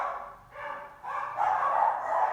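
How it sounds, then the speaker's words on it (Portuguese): Dogs barking in the background during a talk, a hoarse, continuous run of barks that carries on alone with no speech over it. "os cachorros estão latindo"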